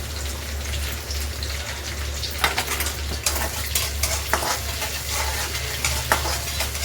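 Vegetables fry in hot oil for chicken fried rice, giving a steady, close sizzle with scattered crackles and pops over a low constant hum.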